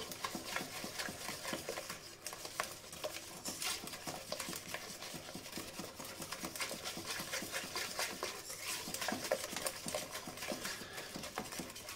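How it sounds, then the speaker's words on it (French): Vanilla cake batter being stirred in a bowl, a quiet, rapid rhythmic beating and tapping that runs steadily throughout with no speech. "Allez, on mélange bien."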